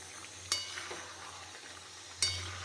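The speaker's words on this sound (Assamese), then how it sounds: "এতিয়াও লৰাই মেলি এনেকৈ অকণমান সময় সিজিবলৈ দিম।" Goat meat with meat masala and chopped green chillies sizzles softly in a pan, with two sharp spatula scrapes about two seconds apart over a low, steady frying hiss.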